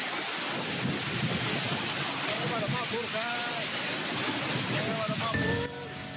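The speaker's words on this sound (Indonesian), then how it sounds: "hujan deras disertai angin kencang menerjang Purbalingga, Jawa Tengah" Heavy rain pours steadily with strong gusting wind buffeting the microphone in Purbalingga, Central Java, a dense continuous roar; faint voices surface briefly underneath.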